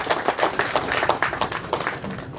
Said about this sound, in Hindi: हम समझते हैं जोरदार तालियों से आप सबको उनका अभिनंदन करना चाहिए